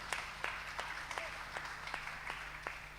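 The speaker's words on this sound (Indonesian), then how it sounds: "Tepuk tangan kepada Tuhan, haleluya" A church congregation claps along in praise, sharp rhythmic hand claps roughly every third of a second over a soft background hum, fairly quiet and distant.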